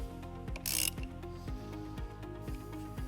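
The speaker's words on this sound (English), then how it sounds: "We're going to remove this nut using a 10mm socket." Ratcheting 10mm socket wrench loosening a nut on a car battery terminal of a 2009 Dodge Nitro, a close, quiet series of evenly spaced clicks about twice per second, with a brief scraping rub near the start.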